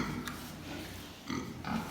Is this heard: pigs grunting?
yes